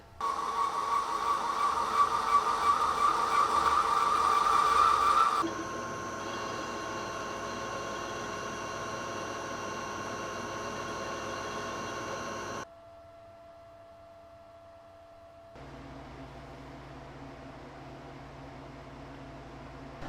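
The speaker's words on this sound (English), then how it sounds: "we're going to machine out a hole" A metal-cutting machine boring out a hole in metal for a chamfer tool, a steady loud machining whine and hiss that shifts in pitch and level in distinct stages, with no voices.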